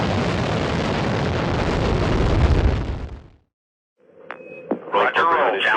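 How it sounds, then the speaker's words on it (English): A rocket launch roars as a loud, sustained broadband rumble for about three seconds and then cuts off abruptly. Brief radio-style tones, beeps and a short burst of voice chatter follow. "Rocket."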